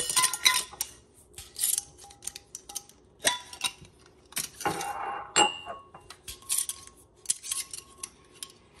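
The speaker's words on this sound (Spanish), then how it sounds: "Así que ahora vamos a quitar las tapitas." Metal lids twisted and pried off small 8- and 10-ounce glass jars in a home kitchen, giving close, irregular metallic clicks, scrapes and clinks with short quiet gaps.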